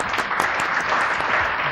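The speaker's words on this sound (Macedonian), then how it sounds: "Браво, Моронов, браво, аплауз" An audience on a quiz show bursts into brief, dense clapping, a bright continuous patter of many hands close by.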